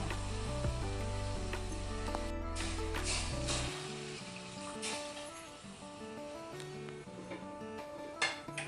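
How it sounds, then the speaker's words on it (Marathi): Water is poured into a hot pan of dried Bombay duck curry with tamarind. A loud hiss and sizzle settle into a quieter bubbling, with a light clink near the end. "पाणी टाकूया."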